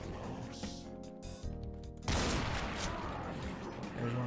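Bursts of heavy gunfire and impacts erupt in Project Brutality Doom 2 as the player is shot, a dense, loud rattle of shots following a quieter moment, with no talking.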